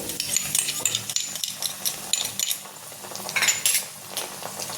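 Sauce poured over steamed vegetables and stirred with a utensil in a pan: steady scraping and wet clinking, close and moderately loud, with no talk.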